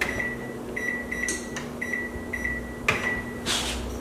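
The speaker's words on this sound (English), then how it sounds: "Now let's set the timer." Repeated short electronic beeps from a microwave oven being set for a 45-minute timer in a home kitchen while baking banana mango tofu bread, a steady hum underneath and a couple of sharper clicks near the end.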